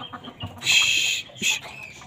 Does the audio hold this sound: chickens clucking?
yes